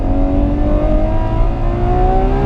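A Ferrari 812 Superfast at the Fiorano track, its engine loud and close as the revs climb steadily in a continuous rising howl with a rough low rumble underneath, no voices.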